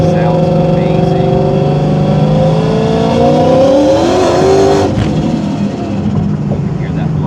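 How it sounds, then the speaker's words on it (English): Supercharged 2015 Ford Mustang GT with a Vortech JT supercharger on E85, revving in neutral with rising supercharger whine and a blow-off valve release near the end, loud and close. "You can hear that blow-off valve."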